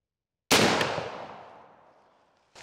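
A Hawken muzzleloader fires a Lee REAL 250 grain conical bullet in a single loud, sharp report, followed by a long decaying echo and then a brief sharp noise near the end.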